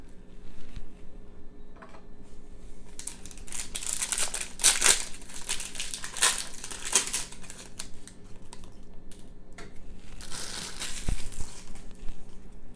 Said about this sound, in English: Get some of this paper out of the way.